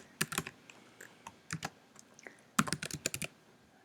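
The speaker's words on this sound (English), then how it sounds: "You can also just type stuff down here." Typing on a computer keyboard in the RStudio console: bursts of crisp key clicks, a few spaced taps, then a quick rapid flurry of keystrokes, close and fairly quiet, without speech.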